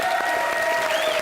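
Studio audience at a Hindi comedy television show applauding a guest, a dense, steady burst of clapping heard clearly and fairly close, with a thin tonal hum running beneath it.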